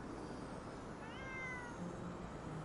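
In the video game Ghostwire: Tokyo, a cat gives a single short, faint meow over a steady ambient background hum.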